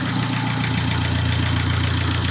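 A turbocharged car engine with a damaged motor and no long exhaust fitted idles steadily and close, a low, even, muffled rumble with a slight rhythmic knock and no other sounds.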